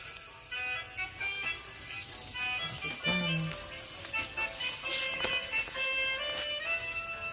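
Steak and sausages sizzling on a barbecue, a steady hiss running throughout with a few sharp clinks, while music plays over it.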